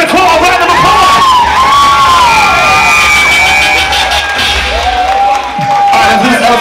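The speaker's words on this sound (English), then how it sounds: "Can you please give the legendary Bobby Rell the great Tristan Nicole a round of applause?" Loud party crowd at a hip-hop ball event, whooping and cheering continuously with music-like tones and shouts layered throughout, dense and close.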